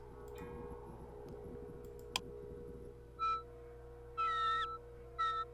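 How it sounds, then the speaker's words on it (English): Bird calls in the puzzle game RHEM 3, a few short, clear chirping bursts over a low steady ambient hum after a sharp click, spaced out and fairly close. "somebody was here listening to some bird sounds and drinking some tea"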